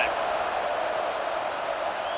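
A college football stadium crowd at a Florida Gators versus Tennessee Volunteers game roars in a steady, dense wash of cheering that holds level for the whole stretch without a break.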